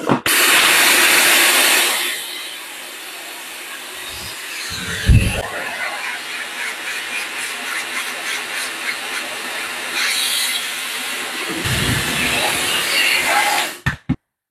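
A Dreame Hair Glory high-speed hair dryer blows a loud, steady rushing hiss for about fourteen seconds, with slight shifts in tone as it moves and a few soft handling bumps, before cutting off abruptly.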